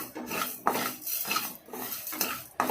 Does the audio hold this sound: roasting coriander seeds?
yes